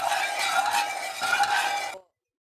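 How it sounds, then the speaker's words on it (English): Salt and sugar are stirred together in a pan, giving a close, continuous gritty scraping for about two seconds before it stops abruptly. "You can go ahead and mix that all together."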